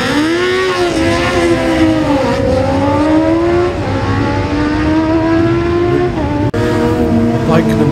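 A Kawasaki superbike at the Classic TT races past, its high engine whine holding steady and then dropping in pitch as it goes by, with a commentator talking over it.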